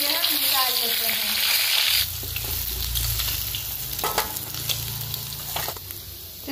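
Katla fish pieces sizzle in a hot oily pan, a loud steady crackle that drops to a softer fry after a couple of seconds, with occasional scraping and clatter.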